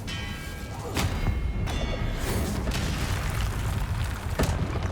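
Confringo blasting spell explosions from Hogwarts Legacy, a dense rumbling barrage with sharp bursts near one and four seconds over sustained booming noise, loud and close.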